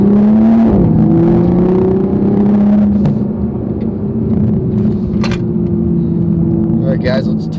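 A widebody Toyota MKV Supra with a JB4 tune drives on the road, its engine a steady loud drone that rises in pitch, then holds as a constant rumble with a few clicks.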